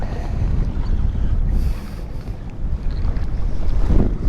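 Strong wind roars over a fishing boat at sea, a loud, constant rumbling gust with water sloshing beneath it that swells near the end, and no voices.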